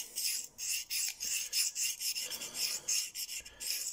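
A knife blade drawn by hand across a sharpening stone in quick repeated rasping strokes, each a bright scraping burst with brief gaps between, close and fairly quiet.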